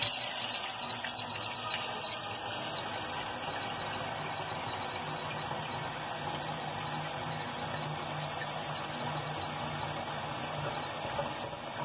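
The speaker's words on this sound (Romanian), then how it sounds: "După aceea restul o umplem cu apă." Tap water runs steadily into a pot holding about a glass of vinegar for several seconds, a continuous hissing gush with no pauses or voices.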